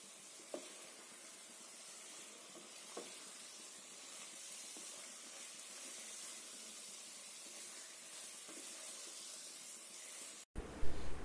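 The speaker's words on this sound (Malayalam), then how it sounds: "ഇനി ഇതിൻ്റെ പച്ചമണം പോകുന്നിടം വരെ ഒന്ന് വഴറ്റി കൊടുക്കണം." Ground coriander and chili powder sauté in a pan for chicken curry, giving a steady, quiet hiss and sizzle with a few faint scraping touches, ending with a brief louder clatter.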